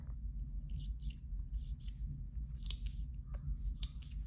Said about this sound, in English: So I'm just going to be snipping